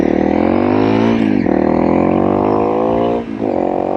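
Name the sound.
Honda CRF 300 motorcycle engine while riding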